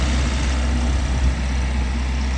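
A Suzuki Samurai fitted with a swapped 1.6L 16-valve engine idles nearby, a steady, loud low drone with a slight rhythmic pulse and no talk over it.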